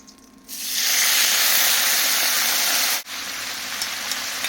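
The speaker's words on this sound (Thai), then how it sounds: "เดี๋ยวผัดผักบุ้งก่อน" Loud sizzling hiss bursts as water spinach hits a hot wok outdoors, holding steady for a few seconds, then easing to a quieter sizzle.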